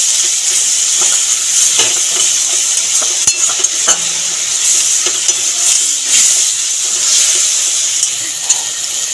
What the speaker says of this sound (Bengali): টমেটোটা ভাজা হয়ে গেছে